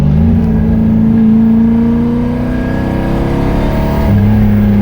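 A car engine revs hard to around 4,500 rpm with a steady loud drone, then drops pitch abruptly as the driver shifts back into second gear on a freshly installed clutch and flywheel; close and continuous, no talking.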